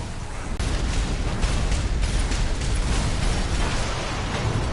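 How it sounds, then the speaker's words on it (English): Ground explosions in Armored Core VI rumble in a dense, continuous barrage, one sharp blast near the start and then repeated bursts blending into a loud, rolling roar with no voices. "Be in the air to get clear of explosions on the ground."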